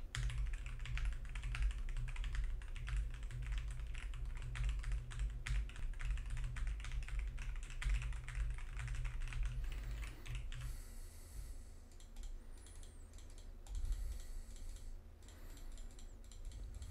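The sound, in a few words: typing on a computer keyboard and using a mouse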